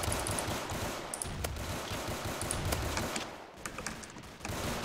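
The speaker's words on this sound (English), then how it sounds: "The guns are really quiet." Gunfire from weapons in a Roblox zombie survival game, a dense, continuous crackle of rapid shots with sharp transient spikes, fairly quiet and steady throughout with a brief dip near the end.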